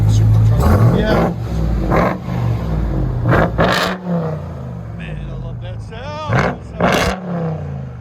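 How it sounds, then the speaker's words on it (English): A straight-piped, supercharged RAM TRX truck revs hard in several bursts, growling loudly up close with supercharger whine, while people talk and cheer over it. "That's a supercharger."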